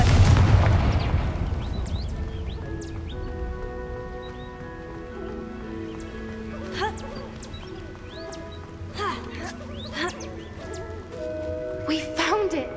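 In Hogwarts Legacy, a Confringo fire spell bursts with a loud booming explosion at the start, its rumble fading into a musical score and scattered game effects, with voices talking.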